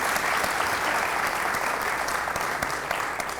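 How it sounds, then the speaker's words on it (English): Steady applause from an audience fills the room, dense continuous clapping at an even level throughout. "So let's give a little clap to them"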